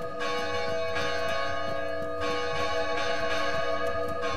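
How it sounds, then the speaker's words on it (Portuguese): Church bells ring at six o'clock in the video game Arma III, heard from inside the church, continuously in a dense, overlapping peal, loud and sustained with rich ringing overtones and no talking. "Os sinos estão batendo."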